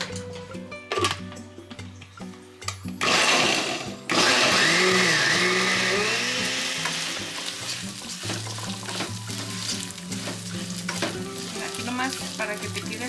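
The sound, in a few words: potato tortas frying in oil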